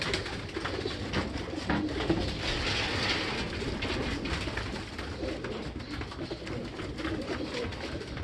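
Racing pigeons coo repeatedly during sprint race training, soft throaty calls overlapping in a busy loft alongside a continuous low rumbling background.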